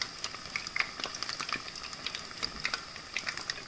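Fish fries in hot oil for fish and chips, a steady quiet bubbling hiss scattered with sharp, irregular crackles and pops, close up and with no voices.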